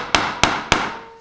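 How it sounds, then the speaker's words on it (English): Hammer driving a nail into a wooden nameplate: three sharp, evenly spaced strikes, close and loud, each ringing briefly before the next. "You can start hammering like this."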